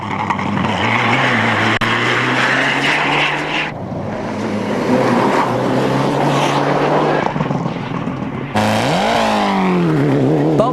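A Mitsubishi Evo 7 rally car roars past on a rally stage, its engine loud and close with sharp gear changes and rising, falling revs as it charges through.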